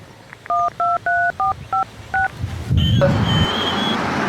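Six crisp touch-tone beeps dial a number in quick succession, followed by a brief click and a ringing tone over faint background noise.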